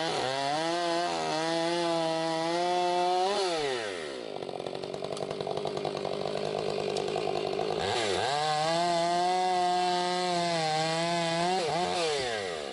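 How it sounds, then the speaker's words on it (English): Chainsaws clearing mountain bike trails, a loud, close engine whine that revs up and down, dips to a rough lower drone while cutting, then climbs again. "there was some bigger power brushers that were being used out there, and oh yeah, chainsaws"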